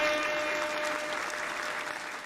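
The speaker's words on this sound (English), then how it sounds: "First, I want to give you a hand clap" Applause from an audience during a UFC Fight Night livestream commentary, a brief burst of dense hand clapping at moderate level that fades slightly toward the end.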